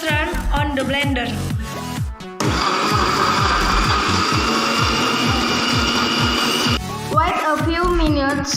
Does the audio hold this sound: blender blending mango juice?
yes